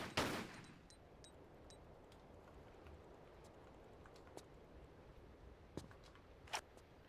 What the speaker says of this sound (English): And Laura's trying to shoot one.